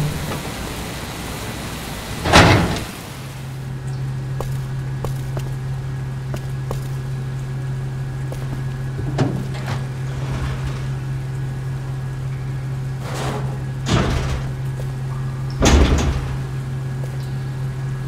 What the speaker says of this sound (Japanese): ドアが開かない。 閉じ込められた。